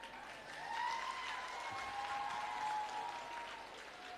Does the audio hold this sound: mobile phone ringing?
no